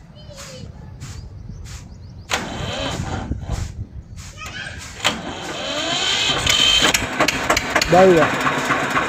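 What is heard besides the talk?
Eicher 242 Xtrac tractor engine starting and idling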